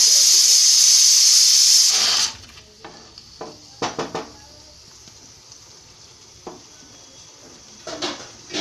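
Onion and masala frying in a pan on a gas stove, a loud steady hiss of hot oil at first that drops off sharply, followed by scattered clinks and scrapes of a spoon against the metal pan.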